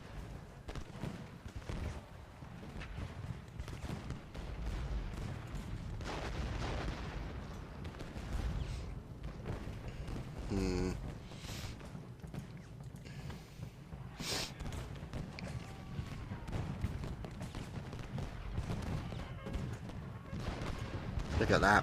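Cannon artillery fire on a Civil War battlefield in the strategy game Ultimate General: Gettysburg, a continuous din of booms and musket crackle rolling on throughout at moderate level, with a few sharper blasts standing out.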